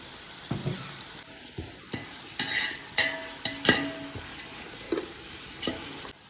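Onions frying with a pinch of salt in a pan for chicken keema and mutton nalli biryani, with a steady soft sizzle broken by repeated sharp scrapes and clinks of a spoon stirring, fairly close, no voices.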